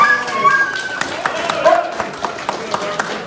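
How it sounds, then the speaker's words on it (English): Scattered hand clapping from a small gathering outdoors at a neighborhood night event, a handful of sharp claps spread across a few seconds amid murmuring voices. "How about a round of applause for him?"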